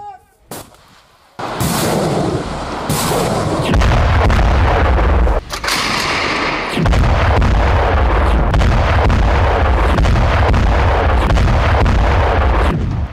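Hezbollah rocket and artillery fire on Israel: after a brief quiet lead-in, loud booming launches and blasts roll into a sustained, heavy barrage that continues nearly without pause.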